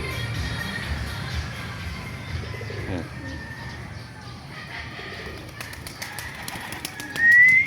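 Pet pigeons in a loft cooing softly and repeatedly, with faint chirps and light rustling, and a louder burst near the end.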